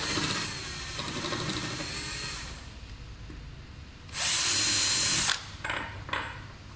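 A power drill bores a hole in a plastic Golf 4 folding mirror part, with a whirring, grinding run, then a louder high-pitched burst and a few short stops and restarts, close and alone.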